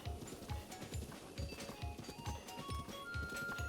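Horse hooves clip-clop in a steady, close galloping rhythm in a Zelda video game, heading toward Kakariko Village, the beats evenly spaced and fairly loud with faint game sounds over them.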